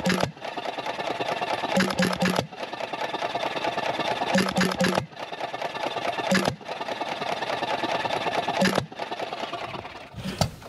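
A small Cooper TB hit-and-miss engine chugs with a rapid mechanical rhythm, cutting out briefly several times before resuming, close and steady.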